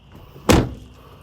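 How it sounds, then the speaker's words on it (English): A 6.0 pickup truck door swings shut in one sharp, solid slam, then a short fading thud, heard alone against a low steady hum. "if we shut this door,"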